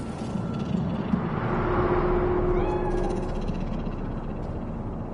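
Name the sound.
cat meowing in Cyberpunk 2077 video game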